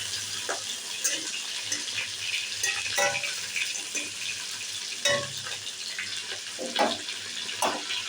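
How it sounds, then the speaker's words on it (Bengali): Vegetables for a pointed gourd curry fry in hot mustard oil with a continuous loud hiss and sizzle, broken by irregular scrapes and clatters as they are stirred. "গরম সরিষার তেলে আমি সবজি ভেজে নিচ্ছি।"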